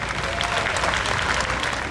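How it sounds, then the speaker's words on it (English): A Tea Party rally crowd in Elyria, Ohio applauds in a dense, even wash of clapping that holds steady throughout. "let's give these people a round of applause because they're our own local patriots"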